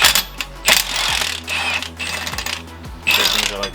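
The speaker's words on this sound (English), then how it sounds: "you take your big ol' impact and reel it on" Impact wrench spinning lug nuts onto a Foxbody Mustang during a five-lug wheel swap, giving several short loud whirring bursts separated by brief pauses, close by with faint talk underneath.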